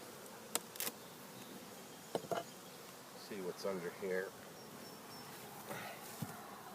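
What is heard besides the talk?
honeybees buzzing in hive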